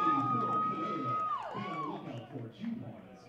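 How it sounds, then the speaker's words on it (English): Crowd of parents and fans at a college baseball game cheering a strikeout, a moderate swell of applause and shouts under a commentator's voice. "the crowd, and parents, fans, they recognize the first strikeout for Luke Borer"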